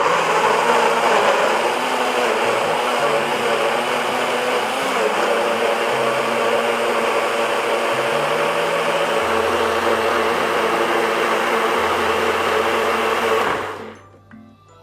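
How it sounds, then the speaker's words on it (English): A NutriBullet blender whirs steadily while blending a plant-based green smoothie, its loud motor dropping in pitch in stages as the load changes before cutting off abruptly at the end. "the reason I like making my smoothies in a NutriBullet"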